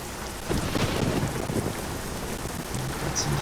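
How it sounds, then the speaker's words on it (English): Rain pouring down during a thunderstorm in American Truck Simulator, with low rolling thunder rumbling beneath the steady downpour throughout. "Got some thunder in there."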